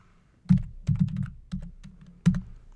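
A computer keyboard types a mask name during image-editing work: a few close, crisp bursts of key clicks separated by short pauses over a quiet room.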